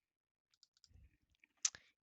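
A few soft mouse clicks in a code editor while a new file is created, faint and isolated, ending in one sharper, louder click.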